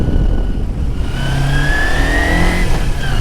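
A race motorcycle revving hard at high RPM, a loud close engine whine climbing in pitch under sustained throttle, with no talk.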